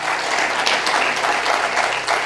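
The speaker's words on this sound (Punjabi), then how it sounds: "ਤਾਲੀ ਮਾਰੀਏ ਜ਼ੋਰ ਦੇ ਨਾਲ।" A church congregation at a Punjabi-language sermon claps loudly and steadily, a dense, continuous wash of many hands close by, with faint voices mixed in.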